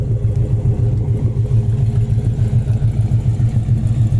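A 1970 Chevy Chevelle Super Sport with a 396 V8 and dual exhaust with new chrome tips idles loud and close, a deep steady rumble with a rhythmic lope throughout.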